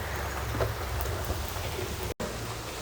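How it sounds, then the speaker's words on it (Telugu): Heavy rain comes down outside a house, heard from indoors as a dense, steady hiss of drops with a low rumble underneath, continuous apart from a momentary cut. "వర్షం సౌండ్ అయితే ఇంట్లోకి ఈ విధంగా చాలా వినిపిస్తుంది నేను వాయిస్ చెప్తూ ఉంటే"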